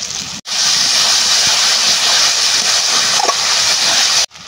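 Ginger, garlic and cumin paste sizzles steadily in hot oil while being sautéed for chicken biryani, a loud continuous frying hiss with a few faint stirring clicks, no talk.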